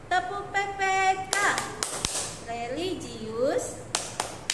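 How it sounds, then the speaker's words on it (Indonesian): Children's classroom clapping chant (tepuk PPK) with rhythmic hand claps and sung call-and-response voices, someone speaking over short clap bursts. "Yuk sama-sama kita tepuk PPK."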